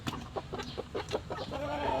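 Chickens cluck in short repeated bursts close by, with a few soft calls; no talking.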